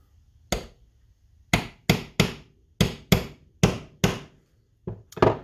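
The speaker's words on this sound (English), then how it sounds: "there's a little tiny hole here that you need to get a punch into" A hammer repeatedly strikes a nail punch driven into a tiny hole in a Penn Silver Beach Model 99 fishing reel, giving about a dozen sharp, ringing metallic taps at an uneven pace, close and clear with no talking.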